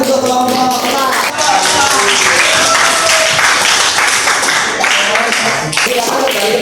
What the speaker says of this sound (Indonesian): beri tepuk tangan untuk kelompok 4